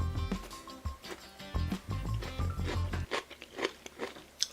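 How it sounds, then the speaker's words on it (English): Crisp, loud crunching of bites into a homemade overnight pickle, several close chomps followed by wet chewing, heard alone with no talk. "Hear the crunch"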